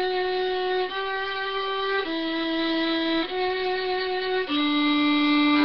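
A fiddle plays a sequence of sustained bowed notes in thirds, each held for about a second, clear, close and on its own.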